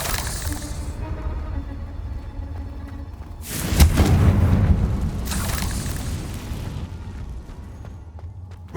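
A Confringo explosive spell in Hogwarts Legacy detonates with a loud, deep boom and crackling burst that swells and lingers for a few seconds before fading, with quieter game ambience before and after.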